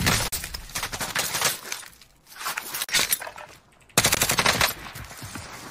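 Automatic weapon fire in Call of Duty: Warzone, long rattling bursts broken by brief pauses, loud and close, with a sharper burst near the end; crisp, dense gunfire throughout.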